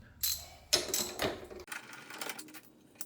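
Ratchet wrench working loose the 12 mm and 10 mm tank bolts on a Suzuki V-Strom motorcycle, a few close bursts of quick metallic clicking and rattling separated by short pauses, with no talking.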